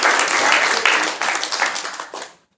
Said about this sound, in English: Give Senator Gary Peters another round of applause.